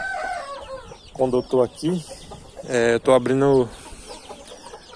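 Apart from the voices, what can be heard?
chickens and roosters clucking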